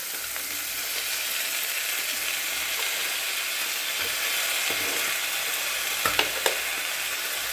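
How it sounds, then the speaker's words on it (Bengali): Potato and onion fry together in a pan for a fish and onion chachchori, giving a steady, dense sizzle throughout with a couple of small sharp clicks near the end, and no voices. "আলু আর পেঁয়াজ একসঙ্গে ভাজা হয়ে যাবে"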